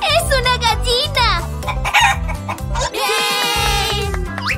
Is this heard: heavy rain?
no